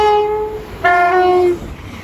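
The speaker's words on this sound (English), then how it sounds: "passing through now is a Phantom West Coast Super Voyager 221 service from Holyhead to London Euston" A Class 221 Super Voyager sounds its horn while passing through Watford Junction station on the West Coast Main Line. Two short tonal horn blasts come in quick succession, loud and fairly close.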